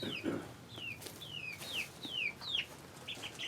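Repeated high, thin chirps from chicks, about eight short descending peeps in a steady run, with faint rustling and scuffling underneath.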